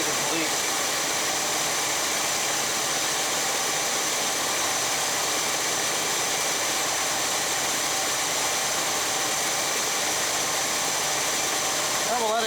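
The big block engine of a 1966 Chevy Biscayne idles in a steady, even rumble with no change in pace, heard up close for the whole stretch.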